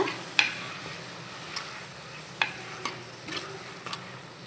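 Cleaned prawns sauté in oil with softened tomatoes for a prawn and bottle gourd curry. A faint, steady sizzle is broken by about six sharp clinks of a stirring spoon against the pan.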